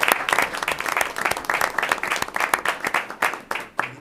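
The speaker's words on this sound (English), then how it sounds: "I think we need to give our student board members a round of applause." Applause from a modest audience for student board members at a school district board meeting, a fairly small group clapping with distinct individual claps, uneven and choppy, fading slightly toward the end.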